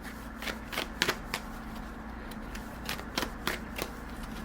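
Tarot and oracle cards are shuffled by hand in a quiet room, a run of close, crisp riffles and slaps in uneven bursts over a low steady hum, with no talking.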